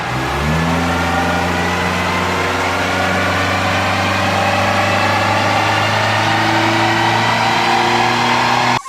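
Honda Accord with a 1.8 liter engine running steadily at a close, loud, even idle with a constant low hum, then cutting off abruptly at the very end.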